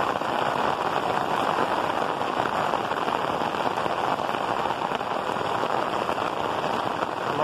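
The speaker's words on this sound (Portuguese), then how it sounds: "A chuva aumentou agora nesse momento." Heavy rain pours steadily in São José do Belmonte, Brazil, a dense, unbroken hiss of drops drumming on surfaces close by, with no voices over it.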